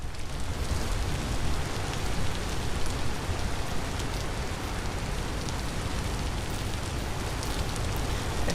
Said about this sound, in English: we have had nothing but rain, which is disconcerting